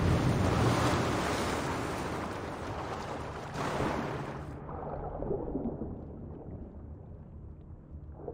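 In Assassin's Creed Valhalla, a rush of water from melted ice after a collapse roars loudly and steadily, then eases into a duller, fading wash.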